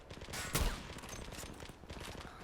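Rapid gunfire in a shooting video game, a dense run of sharp bursts with one loud blast near the start, continuing as steady rattling fire.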